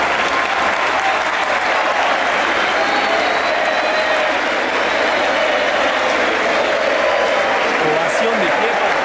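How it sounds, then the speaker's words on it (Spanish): Loud, sustained stadium crowd applause and cheering, a standing ovation for a substituted River Plate player during a Copa Argentina match against Laferrere in Salta, a dense roar filling the whole stretch without letup. "Ovación de pie para Juan Quintero"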